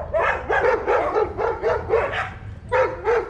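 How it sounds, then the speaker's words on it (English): Several dogs bark near a Gulf of Mexico fishing spot, a loud rhythmic run of about a dozen close barks and yips in quick succession, with a brief pause before a final pair. "all the vicious dogs in the neighborhood are barking at you"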